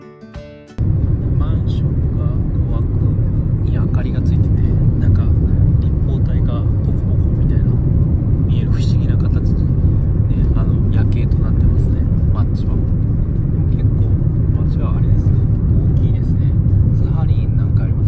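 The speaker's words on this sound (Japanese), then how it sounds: "今タクシーの運転手は110キロぐらいで走ってるので30分ぐらいで着きそうですね" A taxi speeds along a highway at about 110 km/h. A constant low road and engine rumble fills the cabin from start to end, with a person talking over it.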